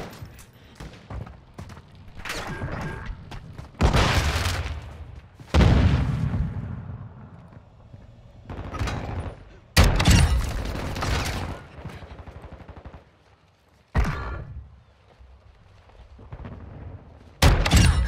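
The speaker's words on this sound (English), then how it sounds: "These long range shots are just so satisfying." Hipfire shotgun slug shots in a video game, heavy booming blasts spaced a few seconds apart, each with a long decaying tail, over softer game noise.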